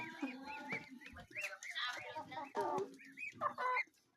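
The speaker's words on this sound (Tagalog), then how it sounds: "Nakita mo yung manok." Several chickens cluck and chatter close by in quick, overlapping bursts, with brief pauses between calls.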